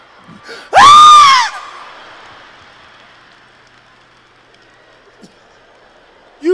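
A voice imitates a child's scream after being spanked during stand-up comedy: one loud, piercing scream lasting under a second, followed by quiet and the start of another shout at the end.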